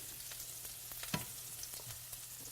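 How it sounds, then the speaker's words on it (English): Lamb chops sizzling and frying in a pan, a quiet continuous crackle with a few sharper pops and faint stirring clicks, no speech. "this is the lamb chop searing, right? These are lamb chops."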